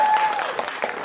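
At a concert, an audience breaks into a brief round of clapping, a dense patter of many hands lasting about a second, with a voice faintly audible at the start.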